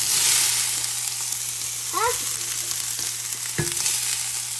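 Food stirred and frying in a pan, a steady close sizzle with scraping stirs and a few brief clanks, no talking.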